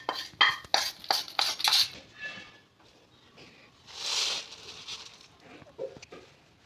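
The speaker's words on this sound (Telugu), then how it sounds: "ఈ మాదిరిగా పెద్ద ఒక ప్లేట్లో పోసుకోవాలి." Homemade village-style curry leaf powder is poured onto a large plate, opening with a quick run of bright metallic clinks and taps, followed by a soft rushing pour and a few scattered knocks.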